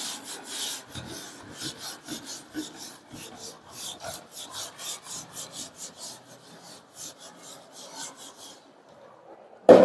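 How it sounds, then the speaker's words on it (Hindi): Rapid back-and-forth strokes as a board is rubbed clean while solving a maths lesson, a steady rasping scrub of many close strokes ending in a brief knock. "अब मैं इसको रब कर रहा हूं।"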